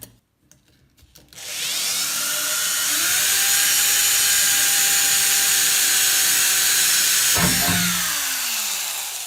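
A cordless drill motor whines up after a few clicks and runs at a steady high pitch for several seconds, close by, then winds down.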